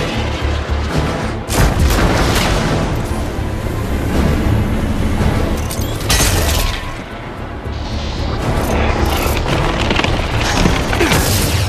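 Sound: Thunderbolt missiles exploding in the video game Iron Man VR

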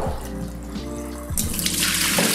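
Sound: draining water from a pot of sliced potatoes

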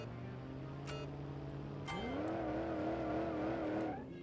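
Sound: car tire squeal in BeamNG video game

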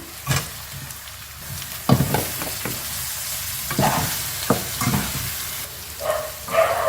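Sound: stirring and frying chicken noodles in a pan

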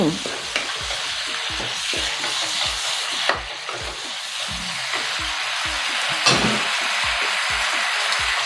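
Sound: stir-frying tofu with pepper and vegetables

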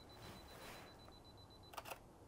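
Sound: camera shutter of a Canon R6 Mark II firing

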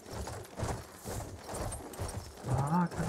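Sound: horse galloping in Battlefield video game

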